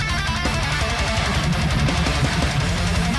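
Fast guitar solo run, played on a heavily distorted technical death metal guitar with tight palm-muted picking, dense, loud and continuous with a rapid chugging low-end rhythm for about three seconds.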